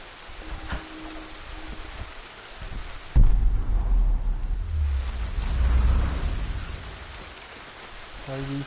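Steady rain hisses throughout in the video game Tomb Raider, with a low rumble of thunder swelling midway, plus a few soft game-like tones.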